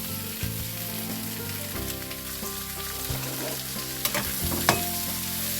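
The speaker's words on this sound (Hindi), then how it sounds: "इनको थोड़ा सा हमने ना फ्राई कर लेना बटर में।" Kebab pieces frying in butter in a pan, a steady sizzle with some stirring and a few sharper utensil clicks near the end. There is no talk.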